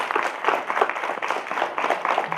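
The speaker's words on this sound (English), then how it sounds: "She deserves a big round of applause." Applause from an audience at an inauguration ceremony, honoring the editor-in-chief: a steady, moderately loud patter of many hands clapping at once, sustained and even without a break.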